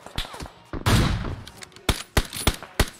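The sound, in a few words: gunfire in the video game PUBG Mobile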